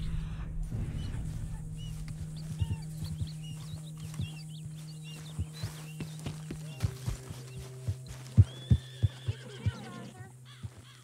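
A horse in Red Dead Redemption 2 gives a whinnying neigh while hooves clip-clop in a steady rhythm that grows louder and more distinct, over a low background hum.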